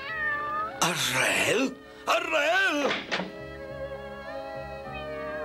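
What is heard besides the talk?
cartoon cat meowing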